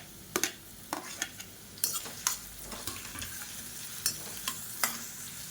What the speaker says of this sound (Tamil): இப்போ பாருங்கள், வெங்காயம், பச்சை மிளகாய் எல்லாமே லேசாக வதங்கிடுச்சு